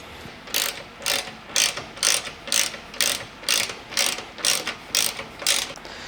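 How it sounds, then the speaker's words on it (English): Hand ratchet tightening crossbar bolts on a 2010-2023 Toyota 4Runner, about a dozen evenly spaced clicking strokes, close and fairly loud, with no talking. "we can tighten everything down."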